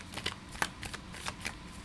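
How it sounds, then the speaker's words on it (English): A deck of tarot cards riffled and shuffled close up, a rapid run of papery flicks and slaps lasting about two seconds, with no talk. "Two more shuffles."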